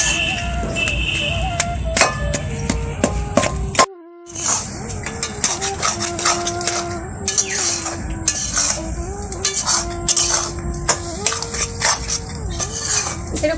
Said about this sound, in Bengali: খুন্তি দিয়ে এগুলো একটু ভেঙে দেবো এইভাবে